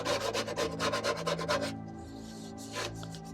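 Scraper rasping baked-on grease off an air fryer tray softened with oven cleaner: about a dozen quick rhythmic scrapes, close and fairly loud, then a pause and one more stroke, no talking.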